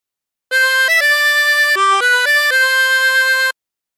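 A harmonica plays a short phrase of Oh My Darling Clementine: a few clean, sustained reedy notes stepping up and down for about three seconds, alone with no background.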